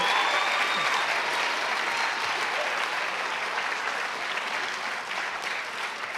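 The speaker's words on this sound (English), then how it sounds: "So go ahead and exit stage right, and another big round of applause." A live audience gives dense, steady applause as nonprofit teams leave the stage at the SEED20 OnStage showcase for Social Venture Partners Charlotte, sustained at an even level throughout with no talking.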